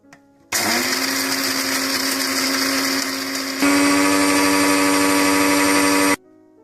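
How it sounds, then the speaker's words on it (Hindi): An electric grinder whirs loudly as it grinds roasted spices for chaat masala, switching on abruptly, shifting to a higher-pitched, louder whir partway through, then cutting off cleanly. "इसके बाद आप इसे ठंडा करके ग्राइंड कर लें।"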